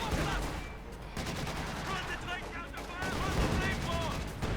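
Machine gun fire rattles in a Company of Heroes 2 1v1 real-time strategy match as steady, dense bursts of battle noise under continuous commentator speech.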